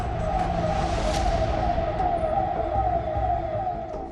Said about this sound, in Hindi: सन्नाटे को चीरती हुई पुलिस की गाड़ी के सायरन की आवाज आ रही है।